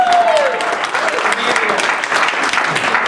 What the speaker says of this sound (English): let's give Interact entirely a round of applause